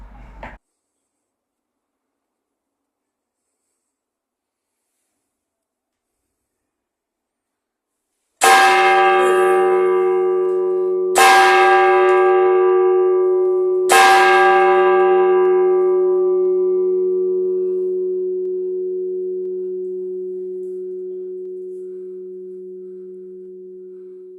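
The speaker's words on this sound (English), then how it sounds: "This is connected directly to the bell tower, which gave me quite a fright." A clock-driven bell in the tower of St. Magnus's Cathedral strikes three loud, close strokes a few seconds apart, each leaving a long, humming resonance that fades slowly after a short knock and a stretch of silence.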